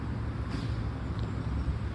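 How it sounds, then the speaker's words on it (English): Steady traffic rumbles from a main road off to one side, a continuous low wash of passing cars heard outdoors from an electric wheelchair. "I don't know if you can hear the traffic on our right now."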